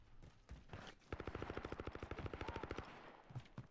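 Rapid automatic gunfire in a Call of Duty game, a long even burst of evenly spaced shots that sounds fairly distant and soft, with a few scattered shots before and after.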